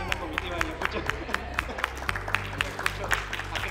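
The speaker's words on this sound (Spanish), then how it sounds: "Un fuerte aplauso para María Luisa." An audience in a civic-education gathering breaks into lively applause, claps rising and falling in a quick irregular patter with a murmur of voices and a low background hum.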